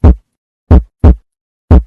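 Animated heartbeat sound effect for a children's lesson on the heart: four deep, thumping beats in an uneven lub-dub rhythm, loud and close, with silence between them and no voices.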